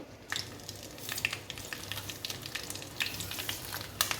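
Crushed garlic cloves dropped into hot tempering oil give a soft, crackling sizzle with scattered small pops and light stirring scrapes, fairly quiet and close, with no voices.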